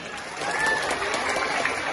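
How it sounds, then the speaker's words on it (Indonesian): Applause from the audience at a school dance show, a Saman creative dance performance at an elementary school's Independence Day competition in Palembang. The clapping is steady, dense and moderately loud, with a faint whistle riding over it. "Sekali lagi yang meriah tepuk tangannya"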